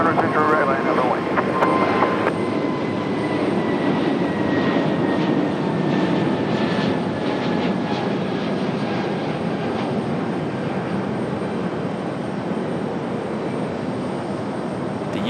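An American Airlines jet rolls for takeoff on runway 23 right at Raleigh-Durham International, giving a loud, steady engine roar with a falling whine. Radio talk is heard over it at the start.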